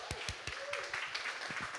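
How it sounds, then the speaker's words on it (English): Applause for a speaker at a cloud-native tech conference, a moderate crowd clapping steadily, with individual claps audible in a dense, even wash. "Let's give him a round of applause."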